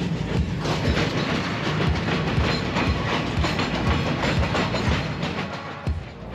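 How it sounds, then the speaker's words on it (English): A long train rolls past in Mozambique, its wagons making a loud, steady rhythmic clickety-clack over the rails with a rumbling undertone and no talking. "That's a really long train."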